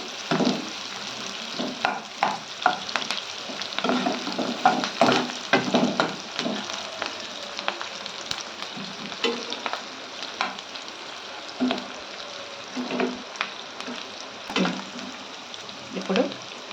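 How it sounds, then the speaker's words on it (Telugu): Oil fries on a slow flame with curry leaves while making tomato pulao, a close continuous sizzle punctuated by repeated scraping and stirring strokes, no talk over it. "స్లో ఫ్లేమ్లో పెట్టుకొని బ్రౌన్ కలర్ వచ్చే వరకు వేసుకోవాలి. కరివేపాకు కూడా వేస్తాను."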